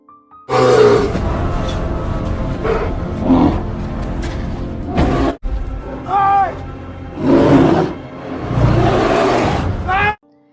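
Deep, rough growls and roars from a bear in the arctic survival film Arctic (2019), several loud bursts separated by short pauses, close by.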